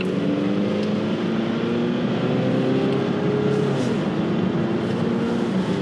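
A car engine drones steadily and loudly throughout, a constant hum with slight pitch shifts as if cruising at road speed.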